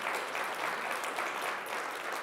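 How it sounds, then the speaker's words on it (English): Audience at a DevNet Create 2018 presentation applauding steadily, a dense, even wash of clapping that holds at constant loudness throughout with no voices over it. "So some claps for them."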